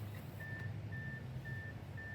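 A Dreame A3 AWD robot lawn mower sounds a series of evenly spaced, sustained electronic beeps, four in a row, over a low steady motor hum outdoors.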